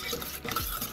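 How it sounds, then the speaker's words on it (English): Whisking Caesar dressing by hand in a bowl: a quick, brisk stirring clatter of whisk against the bowl, close and steady for about a second, with no talk. "as we're whisking crazy over here"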